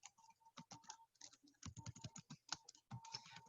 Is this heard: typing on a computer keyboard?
yes